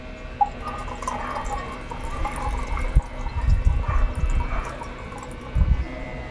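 Rice washing water being poured into a one-litre container, a soft liquid trickle and splash running steadily for several seconds, with a few stronger gurgling surges near the end.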